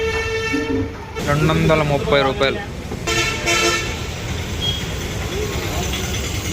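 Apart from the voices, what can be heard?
passenger train and horn at railway station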